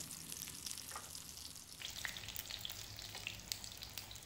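A pasta breakfast fries in a pan over a low flame, giving a soft, quiet, continuous sizzle with light crackles and no talking.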